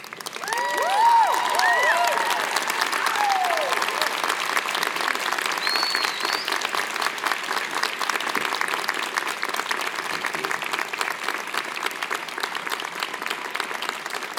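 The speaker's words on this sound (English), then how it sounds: "give them a rousing round of applause" A graduating medical school class delivers a long, rousing round of applause, a thick wash of clapping that holds strong for over ten seconds, with a few whistles and cheers rising near the start.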